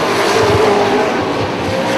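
Sportsman race cars roar together around an oval track, a loud, steady, close engine drone with faint tire squeal.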